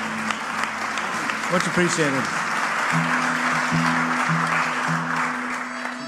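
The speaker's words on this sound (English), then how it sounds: "Give them a round of applause." Audience at a live music session applauding the sound crew, a moderate wash of clapping under a voice, which continues as the applause carries on around him.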